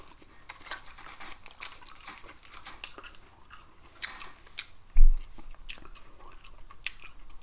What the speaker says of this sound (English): Do it with gum chewing again